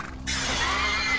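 A horse lets out a loud, drawn-out neigh as a dramatic sound effect in a battle story, a single sustained whinny that cuts in sharply and rings on for about a second.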